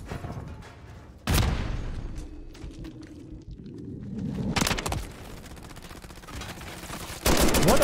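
Gunfire in an online shooter game, with a modified shotgun firing like an assault rifle. Loud bursts of rapid shots come in separate volleys between quieter stretches of game ambience, and no one speaks.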